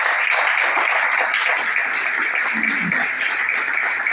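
A church congregation in Libreville, Gabon, applauding together in sustained, dense clapping that fills the room, with voices faintly audible beneath.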